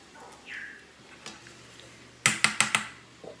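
A sweet potato mixture stirred in a cast iron pan, with a few soft scrapes followed by a quick run of four sharp metallic clinks of a utensil against the pan.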